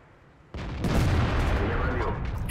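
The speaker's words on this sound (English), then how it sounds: "And a bounce! Must have hit the autoloader on the top." A tank shell glancing off armor in World of Tanks, a sudden loud impact that opens into a sustained rumbling, crackling wash of battle noise.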